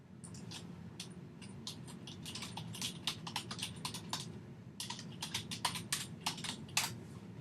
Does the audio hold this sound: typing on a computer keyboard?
yes